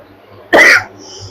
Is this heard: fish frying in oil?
no